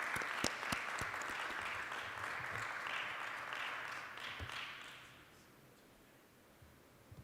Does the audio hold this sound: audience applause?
yes